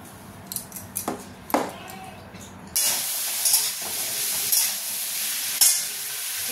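Vegetable curry of potato and pointed gourd frying in a pan after a tempering of black cumin and green chilli, with a steady close sizzle and a few sharp spatula clinks and stirring scrapes against the pan.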